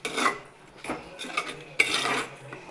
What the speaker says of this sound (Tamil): இதை போட்டு இந்த இதிலே போட்டு நல்லா இப்படி கிளறி அழகாக கிண்டிக்குது